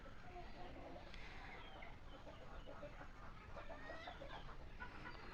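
Free-range desi country chickens cluck softly as they peck at feed from a bowl in a backyard, faint scattered clucks under low background noise and distant voices.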